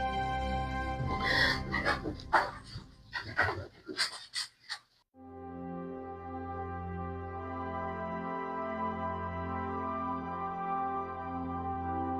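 A dog panting in quick, uneven bursts close by for about five seconds while chasing a cat indoors, then it stops and a steady tonal hum carries on.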